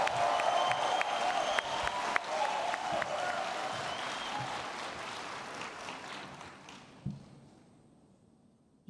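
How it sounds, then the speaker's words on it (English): Conference audience at the Hanga Pitchfest 2023 stage event applauding a speaker, a full burst of clapping that swells at the start, then thins and fades out toward the end. "A round of applause for him, please."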